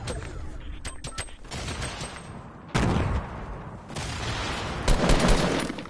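Gunfire in a shooter video game, a cluster of rapid shots followed by louder bursts and booms, dense and close throughout with no voices.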